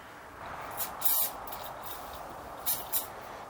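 Several short hissing bursts from a spray can, close by, over a steady background hum.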